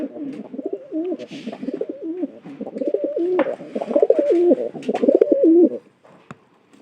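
Pigeons coo steadily at close range, a stream of throaty, rolling calls that runs for nearly six seconds before dropping away, with a couple of faint clicks after.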